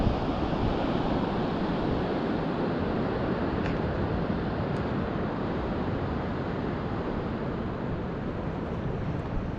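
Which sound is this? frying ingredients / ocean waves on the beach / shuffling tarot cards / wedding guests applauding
ocean waves on the beach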